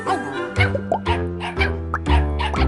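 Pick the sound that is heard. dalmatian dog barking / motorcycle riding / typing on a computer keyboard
dalmatian dog barking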